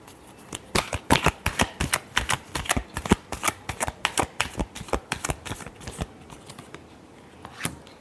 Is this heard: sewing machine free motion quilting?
no